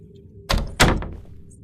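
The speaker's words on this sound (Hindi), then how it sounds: "दरवाजा बंद कर, बंद कर।" A door slams shut in the horror video game Kamla with two heavy, close thuds in quick succession. Near-silence comes before and after.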